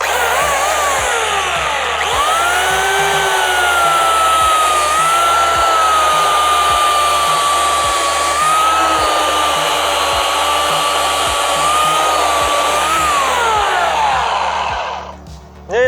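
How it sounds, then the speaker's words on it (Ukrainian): A repaired Taiga PTs-2000 electric chainsaw cuts through a log under load, a loud, steady high whine with a faint pitch wobble as the chain bites, running continuously before cutting off at the end. "Зараз спробуємо пилочку під навантаженням."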